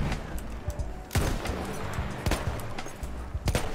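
Pistol shots ring out in Battlefield 1 as a handful of sharp, punchy cracks spaced irregularly over distant battlefield rumble and scattered gunfire, with no talking over them.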